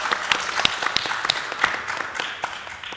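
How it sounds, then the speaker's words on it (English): An audience at a Florida hemp and THC industry panel applauds a newly introduced panelist, steady dense clapping with scattered sharper claps throughout, moderately loud and continuous. "Let's give a round of applause for Travis."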